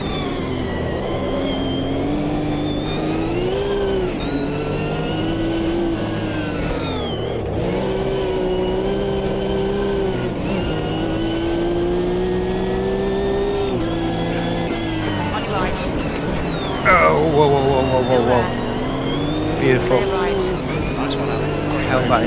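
Race car engine in Automobilista 2 screams through gears, its pitch rising and dropping with each shift and downshift, loud and sustained, while someone talks over it.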